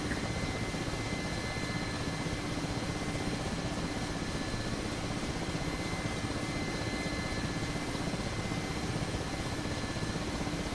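Mi-8 helicopter in the DCS flight simulator cruising steadily, a constant dense rotor and turbine drone that fills the cabin evenly throughout with a faint high whine, no speech.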